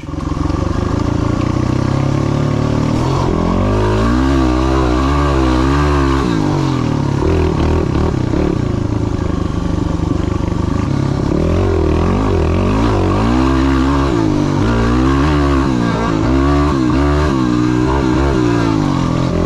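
Yamaha motorcycle engine labouring up a steep mountain ridge, loud and close throughout, with repeated rising and falling revs as the throttle works against the climb, plus some clatter and no talk.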